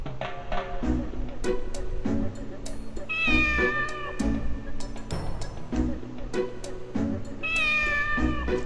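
Cats meow repeatedly in Fullmetal Alchemist 2: Curse of the Crimson Elixir, clear drawn-out mews over rhythmic game music and effects.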